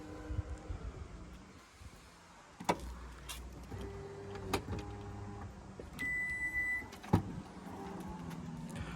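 A crossover's electric tailgate motor whirs steadily for about a second, with a couple of mechanical clunks and latch clicks around it, close up.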